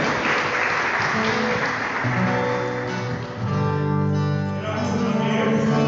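A church congregation at an evangelical worship service claps together, a dense burst of hands that soon runs under sustained worship music with held tones, both continuing to the end.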